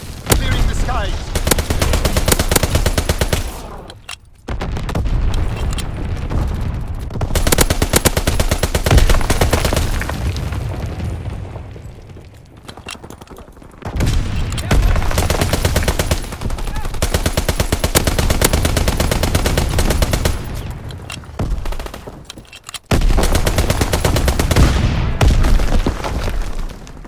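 Anti-aircraft guns in Call of Duty: WWII firing in long, loud, rapid bursts that stop and restart over and over, with booms mixed in.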